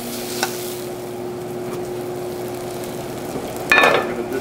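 Crushed red pepper frying in a pan, the heat for a pasta and anchovy dish. A steady, quiet sizzle runs throughout, with a brief utensil clatter near the end.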